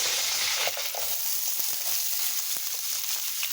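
Garlic hits hot oil in a frying pan, giving a loud, steady, hissing sizzle with a few light crackles and pops throughout, no talk.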